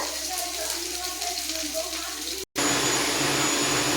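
Bread pakora, slices of bread dipped in gram flour batter, sizzling steadily in hot oil, a close and continuous frying hiss with a brief cut partway through.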